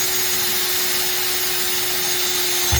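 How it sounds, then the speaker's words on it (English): A power drill bores a pilot hole in steel at slow speed, installing air bags on a Ram 1500, giving a steady, loud, continuous whir with a faint mechanical hum and no talk. "I always like to drill steel on slow speed."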